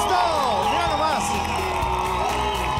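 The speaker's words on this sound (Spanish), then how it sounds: "Los vamos a recibir con el aplauso de nuestro público." Studio audience at a Spanish-language TV talent show semifinal cheers and whoops loudly over steady applause, a dense continuous crowd roar with shouts rising throughout, music underneath.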